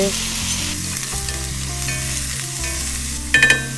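Bitter melon stir-fried in a pan after garlic, with a splash of water added, sizzles and hisses steadily, with a few sharp clinks of a utensil near the end.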